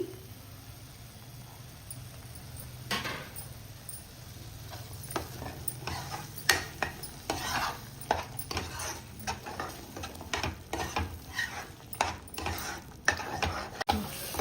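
Paneer butter masala gravy with yogurt, cashews and almonds frying in a pan, a low continuous sizzle broken by increasingly frequent spoon scrapes and taps against the vessel, close up and without any voice.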